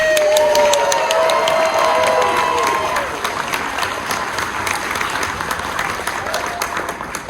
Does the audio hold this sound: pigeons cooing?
no